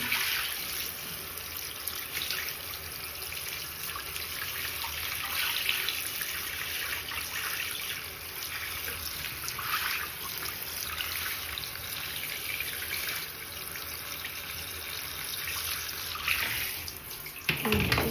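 Water pours onto potted plants in a steady, unbroken stream for the whole stretch, a close, even splashing rush with no voices.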